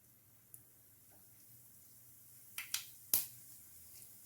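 Mustard seeds and urad dal spluttering in hot oil, a few sharp faint pops and crackles scattered over a quiet background, with no talking.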